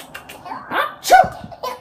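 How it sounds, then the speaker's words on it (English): A Mickey Mouse toy lets out a voiced sneeze, a short burst of nasal cries with a sharp peak near the middle, close and fairly loud with no other talk. "Ooh, oh my, I didn't mean to sneeze."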